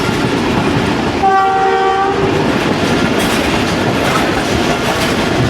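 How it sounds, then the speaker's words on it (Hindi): A ZCO20 diesel locomotive hauling the Rehman Baba Express in Pakistan sounds its whistle in one loud, steady tonal blast of about a second, over continuous rumbling and clattering of the moving train. "ZCO20 की विसल की आवाज़।"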